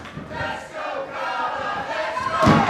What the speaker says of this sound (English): This crowd firm behind her.